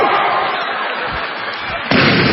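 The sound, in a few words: vocal imitation of explosion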